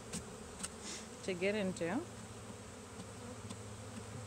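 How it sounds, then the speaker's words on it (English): A dense, steady buzz of many honey bees fills the air as a package of bees is installed in a new hive, with a brief spoken phrase rising over it midway. "And now our bees have a new home"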